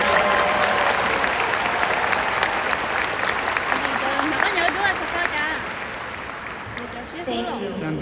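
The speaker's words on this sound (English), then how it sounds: "Please join me in a round of applause" Sustained applause from a large crowd at a 2022 graduation ceremony, steady and dense throughout, tapering slightly toward the end, with some voices mixed in.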